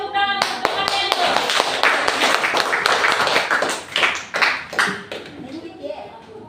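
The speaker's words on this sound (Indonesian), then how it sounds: "Yuk, beri tepuk tangan untuk temannya itu." A classroom of students claps for a classmate in a burst of brisk, close applause. A voice speaks at the start, and the clapping thins and fades toward the end.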